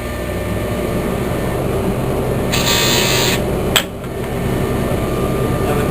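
A power tool fitted with a wider wheel grinds steadily across a wide flat surface, a loud continuous rasping whir with a brief sharper hiss partway through.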